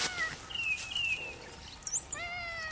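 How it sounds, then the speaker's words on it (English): A black cat meows outdoors on an early spring day, several soft, rising and falling calls spread across the moment, faint and fairly distant over a quiet background. "There's the kitty."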